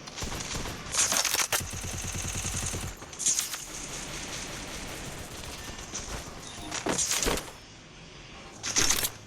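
Video game gunfire in short rapid bursts, crackling automatic volleys separated by quieter gaps, fairly close and sharp, with several distinct bursts across the span.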